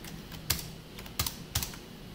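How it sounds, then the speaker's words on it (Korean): A computer keyboard gives a few sharp, close key clicks, three distinct presses spaced about half a second apart, with no talking. "컨트롤 C 누른 다음에"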